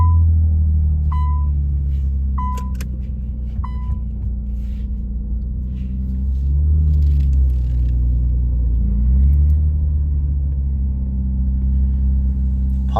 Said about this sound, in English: I'm gonna go ahead and warm start her